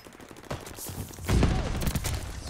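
A beam gun firing in the video game Vanguard: a dense, continuous blaring stream of fire that swells louder midway and holds to the end, sounding close and harsh.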